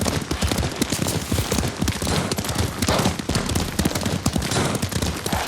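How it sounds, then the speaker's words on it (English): Busy, dense Ghost of Tsushima game audio with rapid rhythmic thudding of galloping horse hooves, mixed with crackling bursts and rushing noise throughout. "Lord Sakai taught me to ride a horse."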